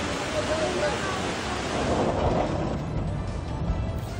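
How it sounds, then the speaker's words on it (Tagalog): Strong floodwater rushes through a flooded village street in Barangay Sevilla, San Fernando City, La Union, a steady loud roaring wash with turbulent surf-like noise and wind buffeting throughout. "Malakas din ang agos ng baha sa Purok 5 sa Barangay Sevilla."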